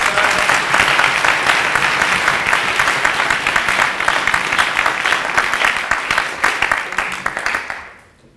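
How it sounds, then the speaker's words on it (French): A debate final's hall audience applauds the jury, loud, dense clapping sustained for several seconds before fading out quickly at the end. "sous les applaudissements de la salle"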